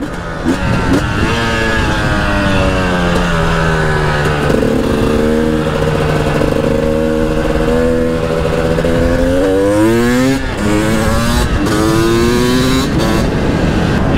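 A two-stroke 300 TPI supermoto motorcycle engine buzzes loudly and close during a wheelie, its pitch rising and falling as the throttle is blipped and held, with no talking.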